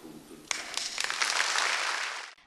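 Audience applause at a Turin ceremony closing the Italy 150 celebrations, following Premier Monti's speech: a sudden onset of dense clapping that swells, holds for about two seconds, then cuts off.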